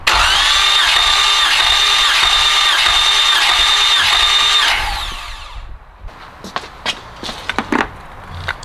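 A supercharged Dodge Challenger's engine cranks on the starter during a compression test, a loud steady whirring drone for about five seconds that then stops. Faint clicks and handling noises follow.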